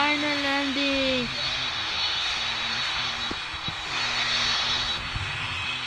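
A passenger airplane on final landing approach, heard from inside the cabin: a steady, loud engine roar and rushing air throughout, with a few brief clunks and voices talking over it.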